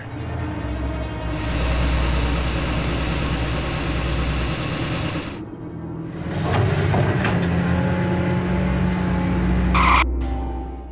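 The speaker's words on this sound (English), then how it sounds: "Scary dump truck." A dump truck engine in an animated cartoon chugs and rattles steadily, then eases to a lower idle with scattered clunks and scrapes. A brief bright tone sounds near the close.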